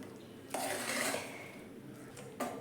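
A spoon scrapes and clatters inside a pot of Kerala-style kootucurry just opened from a pressure cooker, in two short bursts of stirring with a quiet pause between them.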